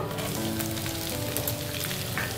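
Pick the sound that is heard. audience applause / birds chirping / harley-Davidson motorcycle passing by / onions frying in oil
onions frying in oil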